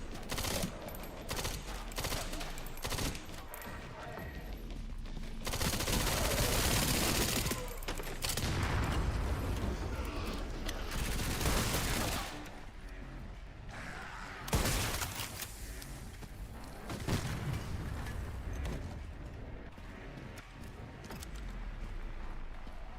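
Zombies firing guns in the Raccoon City video game, dense bursts of gunfire and fusillades in long loud stretches with cracks and booms, separated by quieter gaps with sharp single shots.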